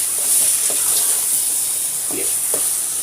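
Mashed eggplant sizzles in a hot pan while being stirred, a steady bright frying hiss with a few soft scraping and squelching strokes as it is mixed.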